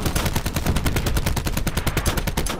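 Rapid automatic gunfire in the shooter game Black Ops 4 during a Team Deathmatch round, a dense, steady stream of loud shots with barely any gap that runs for a few seconds before easing off at the end.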